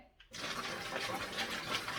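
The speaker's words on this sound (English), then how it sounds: "First, we pour our water into the bucket." Water pours steadily into a bucket of 2 gallons for an egg-preserving lime mixture, a continuous splashing rush starting after a brief quiet moment and staying loud throughout.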